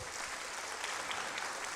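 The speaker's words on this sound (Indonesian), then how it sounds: "Kita boleh tepuk tangan buat dia" An audience at a motivational talk claps in a soft, even patter heard from a distance, steady and fairly faint for under two seconds.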